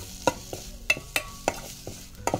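Goda masala being stirred in hot oil in a pan for a Maharashtrian dried-fish (sukat), brinjal and potato curry: soft sizzling under a series of sharp spoon scrapes and clacks, roughly six strokes at an irregular pace.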